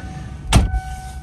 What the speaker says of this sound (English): So car starts